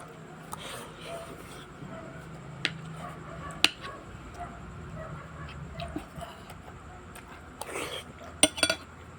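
Cutlery clinks and taps against a plate as a child eats a home dinner of beef and carrots, scattered light metallic knocks, close and soft, over faint background sounds and occasional talk.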